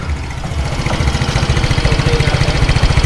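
A Yamaha Mio i125 scooter idles with its stock exhaust pipe, a loud, close, steady low putter with rapid even pulses throughout.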